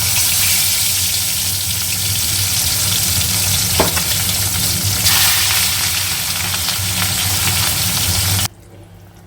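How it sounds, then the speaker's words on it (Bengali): Fish curry frying and simmering gives a loud, dense, continuous sizzle close by, with faint stirring underneath. It runs steadily for about eight seconds, then cuts off abruptly to a quiet room. "এখানে ঝোল ফুটে গেছে এখানে মাছও ভাজা হয়ে গেছে"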